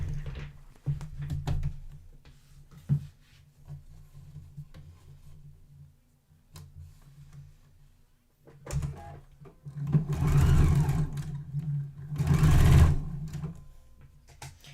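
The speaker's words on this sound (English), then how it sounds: "now I'm going to take these to my machine and sew those 4" A home sewing machine stitches the seams of a festive quilted, embroidered table runner, with quiet handling noise early on and then two loud, steady runs of fast mechanical whirring close by.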